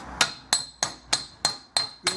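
A panel hammer strikes sheet metal on a Hunter stove restoration, seven sharp, ringing metallic blows at an even rhythm about a third of a second apart, close and loud with no talking.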